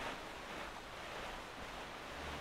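Ocean waves wash steadily while sailing the open sea in the video game Zelda: The Wind Waker HD, a continuous, even roar of surf and wind with no breaks or voices.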